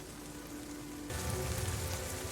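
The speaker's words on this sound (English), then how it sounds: "And it's raining" Steady rain patters across an alien planet in No Man's Sky, a constant hiss of drops that swells louder and denser partway through, with a low rumbling undertone and no voices.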